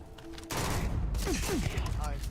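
Rapid bursts of game gunfire in Terran Armada, loud and continuous after a quiet opening moment, with a voice speaking over the shooting.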